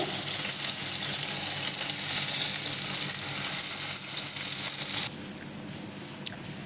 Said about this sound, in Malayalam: നമ്മൾ ചിക്കനും തിരിച്ചിട്ട് കൊടുക്കുന്നുണ്ട്.